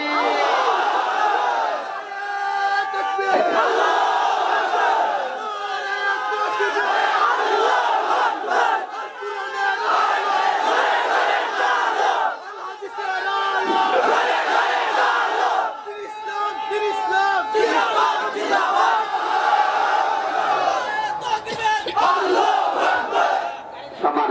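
A large crowd at an outdoor religious sermon gathering roars back a takbir chant in repeated loud bursts, a mass of voices shouting in unison over several seconds each, with brief dips between the waves.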